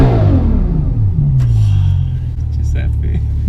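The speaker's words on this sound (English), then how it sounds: "I'll tell you what is smooth, this V12 engine." A V12 engine in a Bugatti Chiron sweeps down from a high rev into a loud, deep rumbling idle, heard from close by, with voices talking over it.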